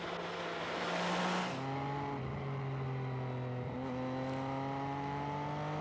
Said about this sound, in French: Le son des échappements d'abord, il devient rauque et rageur.